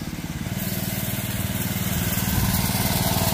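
A small go-kart engine driven by a four-year-old child on a farm gives a steady, close idling buzz with rapid regular pulses, rising slightly in pitch and loudness toward the end, with no talk over it.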